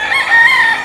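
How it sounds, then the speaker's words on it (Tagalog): Roosters crowing loudly and repeatedly at a gamefowl farm, several birds overlapping in a continuous shrill chorus close by. "Ito yung mga manok dito."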